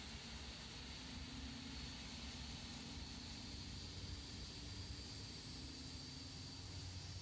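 Boeing 787 GE jet engine running at start-up, a steady broadband roar with a constant whine, heard from a distance as an even drone with no talk.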